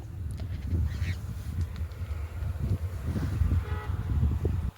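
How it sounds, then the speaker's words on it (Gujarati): Duck- or goose-like birds honk and call repeatedly amid steady low rumble in open countryside around 5:30–6 in the evening, the calls moderately near and continuous with no talking. "પક્ષીઓનો કલરવ"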